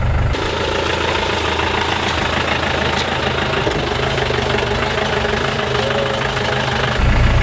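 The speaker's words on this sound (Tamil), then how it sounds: "ஜீப்போட ஃப்ரண்ட்டில் உட்காந்து நான் ட்ராவல் பண்ண போகிறேன்" Steady, loud rumble of a jeep engine driving along a jungle track, continuous and close, with no talk over it.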